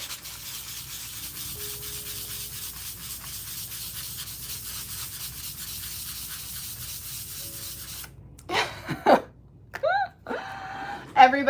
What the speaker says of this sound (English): I'm gonna sand the back